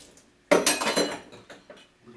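A spoon knocks and clinks against dishes in a home kitchen while deep-fried ravioli is being made, a loud cluster of clattering hits followed by a few quieter taps.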